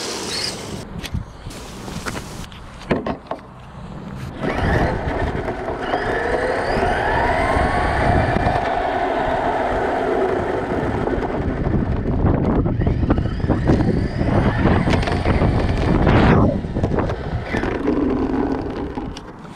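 A radio-controlled Tamiya RS500 Cosworth model car, an old Escort Cosworth-style kit, driving outdoors with a whining motor that rises and falls, buffeted by wind noise and rattles, loud and close.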